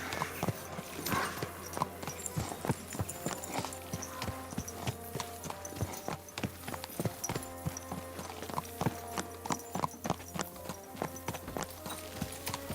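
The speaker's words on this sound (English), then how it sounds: "Your horse nearly trampled me." Horse hooves clip-clop at a walking pace in the medieval video game Kingdom Come: Deliverance II, a steady, fairly quiet series of hollow knocks over faint background ambience.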